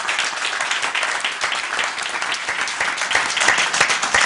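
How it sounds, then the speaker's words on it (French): A live studio audience applauds a comedian on stage at a televised talent show, with dense continuous clapping at steady volume from start to finish. "je vous demande de l'applaudir"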